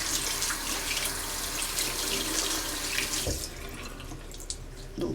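Running tap water rinses makeup brushes in a sink, a steady close rushing stream that eases slightly partway through, with no talking.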